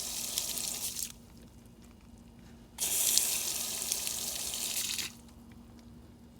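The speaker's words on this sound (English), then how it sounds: "Now look at the flow of water." Water gushes from an LG washing machine's inlet valve in two strong bursts of hissing flow, each lasting a couple of seconds, separated by quieter pauses.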